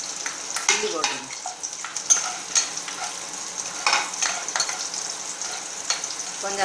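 Steady sizzling of onions and chilli frying in a pan for egg kulambu, with occasional stirring scrapes and clinks, close and continuous.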